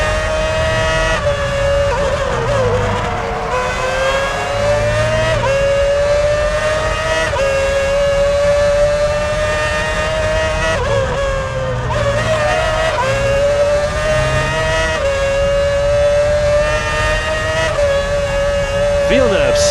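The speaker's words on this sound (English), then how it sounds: "Villeneuve speeds away from the pits." A Formula 1 car in the F1 2006 video game, racing at San Marino, accelerates hard out of the pits with a loud, continuous high-pitched engine whine that rises and shifts repeatedly, while a commentator talks over it.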